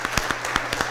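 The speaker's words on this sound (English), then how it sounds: "Let's give them a big round of applause" Applause for gun-safety advocates seated in the galleries at a city Board of Aldermen meeting, a brief stretch of scattered hand claps with a few sharper peaks, moderately distant and fairly quiet.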